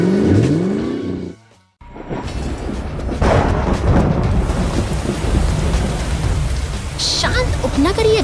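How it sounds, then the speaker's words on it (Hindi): Cartoon rain falls on quiet suburban streets as a loud, steady downpour with a low thunder-like rumble. It follows a brief drop to near silence after an earlier musical moment. "शांत उपनगरीय गलियों में बारिश की फुहारें गिर रही हैं"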